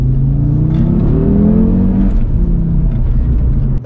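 An Audi RS3 Stage 2 with a Milltek exhaust accelerating hard at full throttle, its engine note climbing steadily in pitch through a gear, loud and close for a few seconds.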